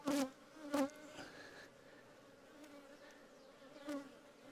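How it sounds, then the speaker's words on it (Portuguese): Honey bees arriving at the hive after a colony split, a faint continuous buzzing with a few louder passes as single bees fly close by, heard alone without talk. "Agora, olhando aqui as abelhas que estão chegando"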